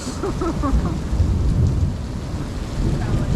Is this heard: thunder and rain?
yes